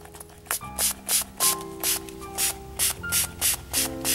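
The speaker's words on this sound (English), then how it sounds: "I poured some green patina into this small spray bottle. You want to spray your sculpture while the paint is still wet." A small spray bottle mists green patina onto a Henry Moore-inspired sculpture over still-wet paint, in about a dozen short, sharp spritzes in a quick, steady rhythm, close up, with soft tonal music behind.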